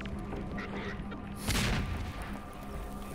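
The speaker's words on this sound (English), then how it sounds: "Oh, they threw a grenade." A grenade explodes in Half-Life 2: one broad, rumbling blast midway that decays over about a second, set against steady game background noise.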